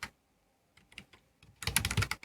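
Computer keyboard typing while a text prompt is entered for an image generator: a few scattered keystrokes, then a dense, close burst of rapid clicking toward the end, with no talk.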